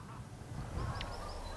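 Faint, distant honking from greylag geese flying over a marsh, a couple of brief calls carried over soft outdoor ambience.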